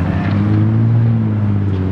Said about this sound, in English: red-eyed Camaro is coming back for more.